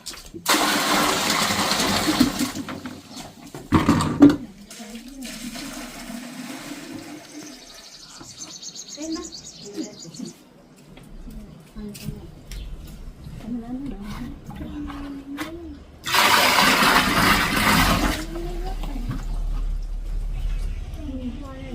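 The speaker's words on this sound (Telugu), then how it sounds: "నీళ్ళు బయటికి వెళ్తున్నాయి ఇట్లా" Water is poured into a snake's burrow during a spectacled cobra rescue, with two loud rushing gushes separated by a stretch of people talking outdoors.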